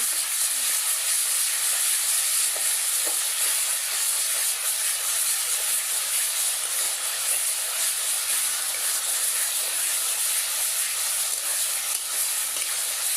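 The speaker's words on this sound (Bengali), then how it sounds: "এইদিকে আমি মশলা কষাই নিচ্ছি" Spices frying and being stirred in a pan make a continuous bright hiss and sizzle at an even level throughout, with no voices.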